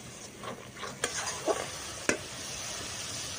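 Crab masala fries in a pan as a soft sizzle runs beneath a few sharp spatula scrapes and knocks of stirring, close and brief, with no voices.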